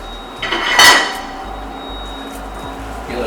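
A non-stick pan clanks in a resort kitchen while Caribbean spiced red snapper is being prepared. A bright metallic clatter peaks early, then fades to low, steady kitchen background with a faint knock near the end.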